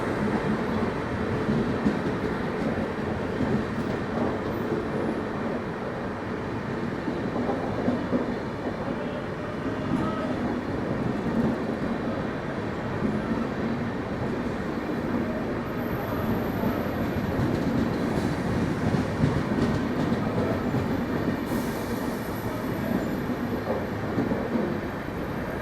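Danapur Secunderabad express train running on the rails, a steady continuous rumble with clattering wheels and carriage noise heard from inside the train.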